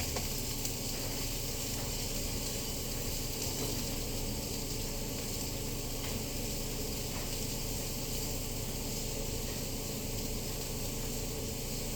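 Onions fry in a hot pan, giving a steady, even sizzle that holds at a moderate level the whole time with no voices.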